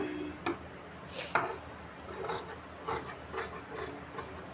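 Scissors cutting fabric for a neckline, quiet close snips and rubbing strokes in an irregular sequence with faint sliding between cuts.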